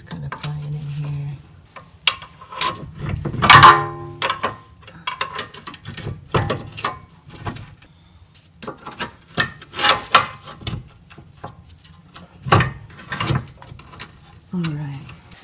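Metal-on-metal prying and scraping while the wheel hub studs of a Toyota RAV4 are worked clear of the control arm. Irregular knocks, rubs and clunks come close and loud over several seconds, with someone talking between them.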